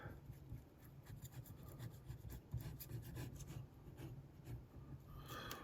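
Paper being trimmed for a handmade mini booklet, a quiet close rasping and rubbing with small irregular scratchy strokes that continue steadily and softly with no speech.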